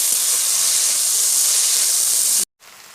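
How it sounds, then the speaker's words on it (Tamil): Two large tomatoes sautéing in hot oil in a pan for a soybean fry, giving a loud, steady, close hiss and sizzle that cuts off abruptly near the end. "இப்போ நம்ம வந்து தக்காளி போட்டுக்கலாம் ரெண்டு பெரிய தக்காளி போட்டிருக்கோம் இப்போ தக்காளி நல்லா வதங்க விட்டுடலாம்"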